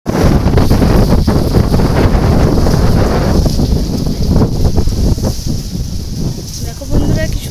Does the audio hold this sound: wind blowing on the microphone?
yes